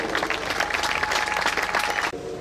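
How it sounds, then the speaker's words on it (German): A crowd claps enthusiastically for helpers who came with machines after the Ahr valley flood, a dense, close burst of applause that cuts off abruptly near the end, leaving quiet room noise. "ein ganz riesen Applaus all diesen Helfern"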